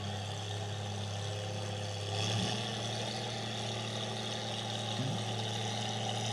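An Oliver 77 tractor with a 1947 Waukesha six-cylinder engine runs steadily at a fair barnyard tractor pull, a constant low drone heard at a distance with slight swells in level.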